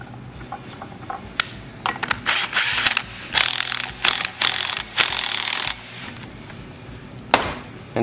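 A ratcheting tool loosens the left-handed flywheel nut on a 1956 Eclipse Wasp chainsaw, with close, loud bursts of clicking in short, irregular runs and pauses between them.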